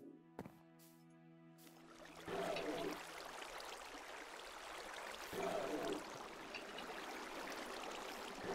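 Water pours from a bucket in a Minecraft Tekkit game: two faint, brief splashing surges of flowing water, quiet throughout, after a short tonal game chime at the start.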